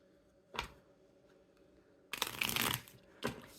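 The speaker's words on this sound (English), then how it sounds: "Shuffle them up real quick." A tarot deck is shuffled close by in short bursts: a quick riffle, a longer flurry of card rustling, then a final snap.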